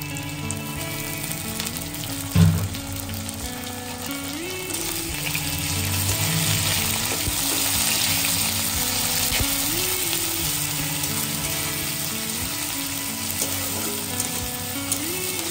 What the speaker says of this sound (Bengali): দেখতেই পাচ্ছেন আমরা পেঁয়াজ এবং চিংড়ি মাছগুলো একসাথে ভেজে নিচ্ছি